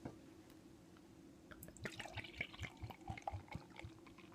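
Beer poured hard into a glass, a fizzing, splashing gurgle that builds and drips over a low steady hum, close and fairly quiet.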